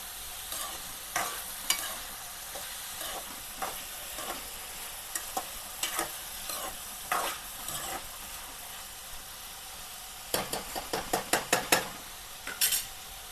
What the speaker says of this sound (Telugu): ఇప్పుడు కలుపుకోవాలి ఆనియన్స్ అవన్నీ మంచిగా కింద ఉన్నాయి కాబట్టి అటు ఇటు కలుపుకోవాలి